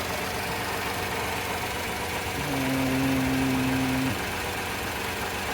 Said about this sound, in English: 3-cylinder engine located under the floor